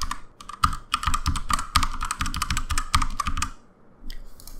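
Rapid, steady typing on a computer keyboard, close and fairly loud clacking in a dense burst that pauses briefly before a few more keystrokes.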